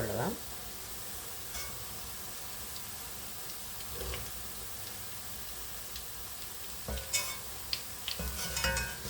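A ladle stirs frying boondi for laddu in a pan, soft scraping and sizzling with a few clinks of metal, getting louder toward the end.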